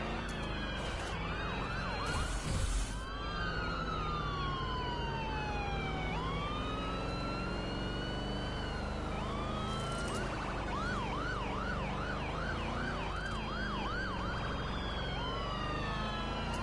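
Several police car sirens wailing and yelping at once in The Crew 2 during a chase, overlapping and continuous over steady engine noise, with a fast yelp pattern rising midway.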